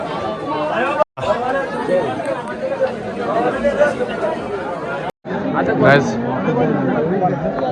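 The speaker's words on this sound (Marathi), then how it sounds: "तिथं पण जाम गर्दी आहे" A packed crowd at the Bhairavnath temple on the Vaishno Devi pilgrimage, a continuous hubbub of many voices chattering nearby, with a couple of brief cut-outs.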